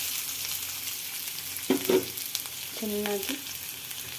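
Chopped onion drops into hot oil already holding cumin, cinnamon and bay leaf, giving a steady close sizzle with a couple of louder stirring scrapes and a brief spoken word.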